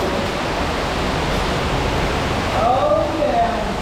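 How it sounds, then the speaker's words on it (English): Deep rumbling roar of waterfalls at the bottom of a deep sinkhole, a steady dense wash of falling water that fills the space throughout, with faint voices briefly over it near the end. "It's like 2 waterfalls."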